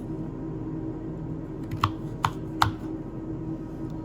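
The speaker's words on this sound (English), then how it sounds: "I'm going to do them a little bit thinner so they'll cook quicker, and I'm going to cut them again" A knife slices carrots into thin julienne strips on a chopping board: three quick, crisp taps at even spacing, close and clear over a quiet room hum, with no talking.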